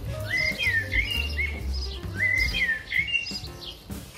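A bird singing in a garden in Switzerland, with repeated bright chirping phrases in two clear bursts, close and loud over a low background rumble.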